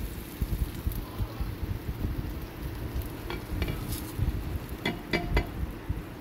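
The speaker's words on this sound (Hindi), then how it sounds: "अब इस पॉइंट के ऊपर मैं ये सारे मसाले इस प्याज और लहसुन अदरक के पेस्ट में शामिल कर रही हूँ" Spices stirred into an onion, garlic and ginger paste frying in a pan for anday cholay, a steady close sizzle with scraping stirs and scattered sharp clinks, no voices.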